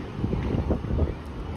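Gusty wind buffets the microphone with low, rumbling roar for a brief moment.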